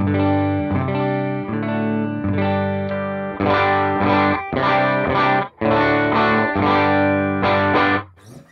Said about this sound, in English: Clean tone sounds like this.